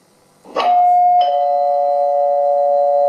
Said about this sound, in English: When the doorbell went.